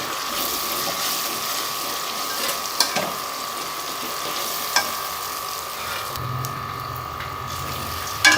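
Masala sizzles and crackles in a pan as whole green chilies are added to a Punjabi-style taro root curry. A steady fry hiss runs throughout, broken by a few sharp clicks and scrapes from the utensils.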